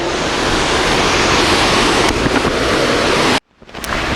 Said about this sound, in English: Okay, these are really impressive waterfalls.